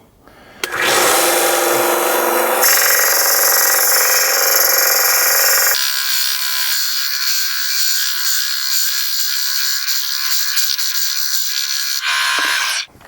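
A Central Machinery 1-inch by 30-inch belt sander grinds an old lawnmower axle, a loud, continuous abrasive whine that starts abruptly, shifts in pitch and texture partway through, runs about twelve seconds and then cuts off, with no talking.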